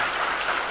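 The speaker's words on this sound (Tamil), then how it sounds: "சிறப்பான கைத்தட்டல் எடுக்கலாம்" Audience applause in a hall during a Tamil public speech event, a brief steady wash of clapping filling the moment without any voices over it.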